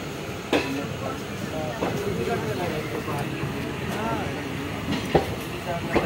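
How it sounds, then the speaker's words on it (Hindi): Hoshiarpur–Agra Cantt Express running just after leaving Ludhiana, a steady rumble of moving carriages with a few sharp clacks from the track, heard from inside the train with voices talking faintly under the noise. "अपनी ट्रेन जो है लुधियाना से निकल चुकी है।"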